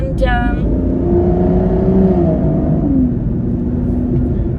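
An Aston Martin Rapide S rumbles loudly as it downshifts and pulls away, its engine note rising and falling up close, with a voice speaking over it.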